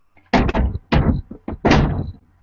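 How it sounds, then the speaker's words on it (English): Doors being shut indoors, a series of loud, close thuds and rattling knocks over about two seconds, with no voices. "Sorry, I had to shut the doors."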